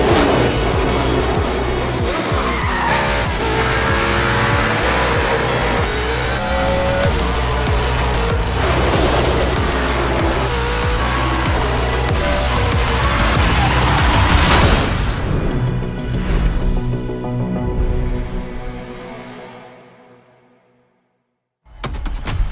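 Game race cars from a NASCAR racing video game roar and crash loudly and continuously, dense engine noise with booms and impacts, before cutting off into near silence and then a brief burst at the end.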